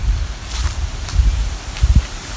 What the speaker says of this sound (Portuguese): Tá ventando bastante, mas vou tentar mostrar aqui um pouquinho